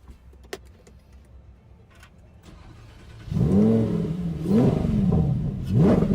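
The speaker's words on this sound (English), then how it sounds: "I'm revving the car right now." A car engine revs in loud, rising surges that start abruptly after a quiet stretch with small clicks, then swell twice more in quick succession close by.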